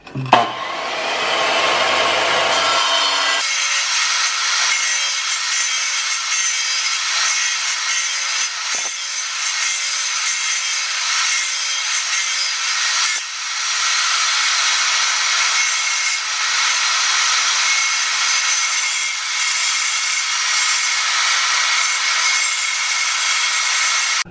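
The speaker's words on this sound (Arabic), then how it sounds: "هسه راح نقص مالت الكهرباء وين تجي" A kitchen backsplash panel is cut to fit around an electrical outlet, a brief scraping start giving way to a long, loud, continuous power-tool cutting whine that stays steady and close, dipping once midway before resuming, with no talking.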